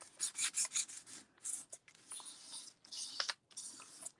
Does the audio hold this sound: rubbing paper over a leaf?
yes